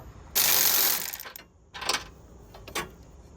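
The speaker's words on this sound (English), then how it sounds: "So these 17mm bolts, I'm going to torque them down to 30 foot-pounds of torque." Torque wrench tightening 17mm frame bolts on a 2017–2022 Honda CR-V 1.5T: a quick burst of ratchet clicking followed by two shorter ratchet strokes, close and clear with no talking.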